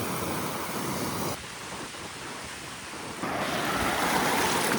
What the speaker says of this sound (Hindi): लेकिन यहाँ थोड़ा दूर तक ही लहरें आ रही हैं